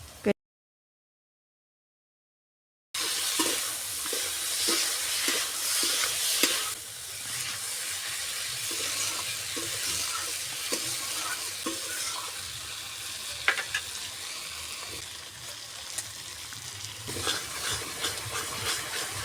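Ripe tomatoes stir-fried in a hot pan with chilli powder for a spicy Bengali tengra fish curry, giving a steady close sizzle and hiss broken by repeated scraping stirs, after a brief silent gap at the start.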